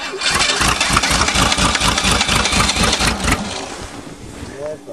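1986 Ford Ranger engine cranking in a cold start in the snow, a loud, steady rhythmic churn of the starter for over three seconds before it stops and trails off, with people talking nearby.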